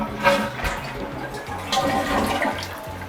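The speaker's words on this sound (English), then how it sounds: "let's give it the inaugural flush and make sure everything's working" A newly installed toilet gets its first test flush, a close, continuous rush of draining and refilling water that carries on for the whole stretch without any talking.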